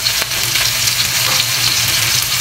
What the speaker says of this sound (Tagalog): Saka natin igigisa yung bawang sibuyas natin, Kajin Lemon.